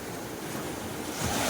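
Large ocean waves surging and breaking at night during a low-pressure storm at Ambungan, a steady loud wash of surf with wind buffeting the microphone, swelling louder near the end, no voices.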